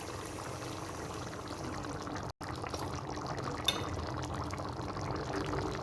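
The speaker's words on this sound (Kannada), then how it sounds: "ನೀರು ಹಾಕ್ಬಿಟ್ಟು ಮರಳಕ್ಕೆ ಬಿಡ್ತೀನಿ" Water being poured into a cooking pot for mutton pulao rice, a steady, fairly close liquid rush with a brief gap midway, no talking.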